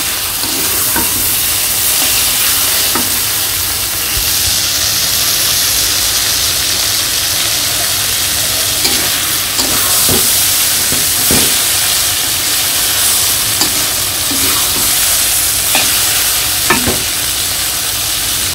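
Dalna curry bubbles and sizzles steadily in a pan, with scraping stirs and occasional louder clinks of a spoon against the metal, the frying hiss continuous and close throughout.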